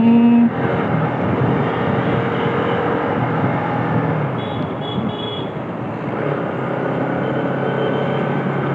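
A Bajaj Pulsar RS 200 motorcycle ridden through commuter traffic, its engine and rushing wind forming a loud, steady drone that holds with slight swells throughout, with no talking.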